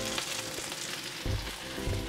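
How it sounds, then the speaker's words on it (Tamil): Garlic, lemongrass, bay leaf and green chili fry in hot oil, a dense, close hiss with a brief louder burst of crackling as the pieces are stirred. "இப்போ நான் இந்த ஓயிலுக்குள்ளே உள்ளி, லெமன் கிராஸ், பே லீஃப், அடுத்தது பச்சை மிளகாய் அதெல்லாம் நல்லா ஒருக்கா மிக்ஸ் பண்ணலாம்."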